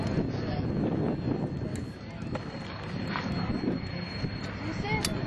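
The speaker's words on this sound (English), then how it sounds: "Oh, that's a chase plane." A chase plane flying overhead during the first flight of SpaceShipOne, a broad, steady engine drone heard outdoors in wind while people talk nearby.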